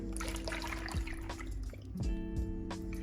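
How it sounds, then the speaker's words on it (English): Warm milk for cinnamon rolls pours steadily into a bowl, a continuous close trickle with a few gurgling splashes near the end. "We start off with adding the warm milk in a bowl."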